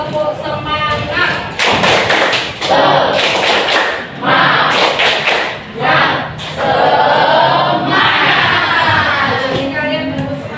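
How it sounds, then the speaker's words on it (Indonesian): Students at a junior high school counseling session perform a rhythmic clapping chant in bursts, loud and close, with a crowd of voices calling along between the claps. "Sebelumnya saya mau tetap ya tepuk semangat."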